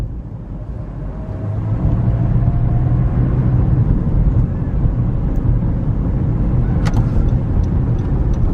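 Steady road noise from inside a car on a road trip, a continuous low rumble and tire hum that swells slightly after the first couple of seconds and then holds even and loud.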